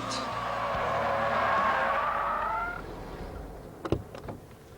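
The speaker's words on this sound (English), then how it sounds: "That upset the balance of the car, pitched the nose forward, and caused the spin" A car spinning out on a road, its tyres letting out a loud, sustained squeal that fades after a few seconds, followed by a couple of short bumps.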